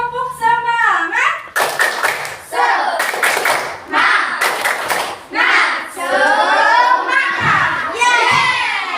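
Children in a classroom do a rhythmic spirit clap, bursts of sharp group clapping in a steady pattern alternating with loud chanting and excited young voices, close and lively.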